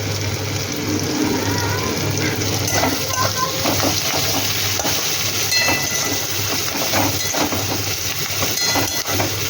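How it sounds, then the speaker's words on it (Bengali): Onions fry in oil in a pan for a Bengali fish curry, a steady close sizzle and hiss with intermittent stirring scrapes running throughout. "ওই তেলে পেঁয়াজ দিয়ে নিয়েছি, পেঁয়াজটা দিয়ে একটু ভেজে ভেজে নিয়েছি"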